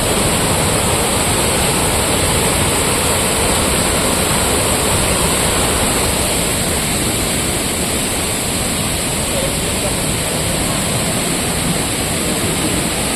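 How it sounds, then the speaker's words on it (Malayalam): Seetharkundu waterfall at Kollengode, a loud, constant roar of falling water, broad and unbroken for the whole stretch with no voices. "ഇത് അടിപൊളി വെള്ളച്ചാട്ടം"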